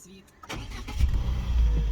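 A petrol Peugeot 207+ engine fires up and settles into a steady idle after a brief starter whir, close and growing louder, with a person talking over it.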